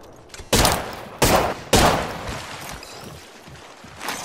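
Three loud, separate bursts of gunfire in the Apex Legends video game, each a sharp blast with a fading tail, then a softer shot near the end.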